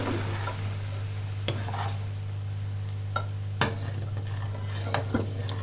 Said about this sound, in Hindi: अब शरबत जो है वो हमने इसके अंदर ऐड कर लेना है, और इस शरबत के अंदर हमने हलवे को पकाना है